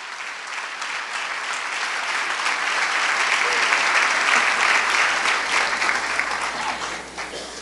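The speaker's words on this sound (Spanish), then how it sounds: "Dele un aplauso al Señor si quiere." A church congregation applauds during a worship service, a full crowd clapping that swells gradually toward the middle, stays strong and then tapers off near the end, with no speech over it.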